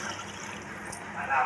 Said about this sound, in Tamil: இப்போ பருப்பு போட்டு இதில் நம்ம தேவையான அளவு தண்ணி ஊற்றிக்கலாம்.